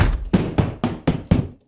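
A hammer drives nails into a door to nail it shut, giving six evenly spaced heavy blows with a hollow, resonant wooden thud, loud and close, in a cartoon setting.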